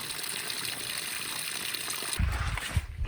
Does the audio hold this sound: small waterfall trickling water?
yes